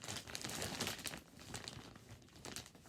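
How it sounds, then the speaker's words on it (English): Sealed plastic packaging on a compressed comforter is ripped open, giving a steady close crinkling and tearing rustle that lasts the whole moment and fades slightly toward the end. "it has a very firm seal that's easy to rip open."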